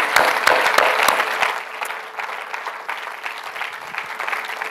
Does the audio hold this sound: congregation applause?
yes